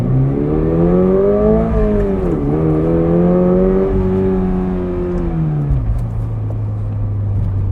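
2026 Toyota GR86 with a six-speed manual, engine revving hard under acceleration, loud and close, the steady drone climbing in pitch, dipping briefly at a shift, then settling lower near the end.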